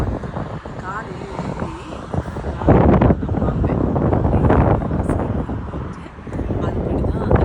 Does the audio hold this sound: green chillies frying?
no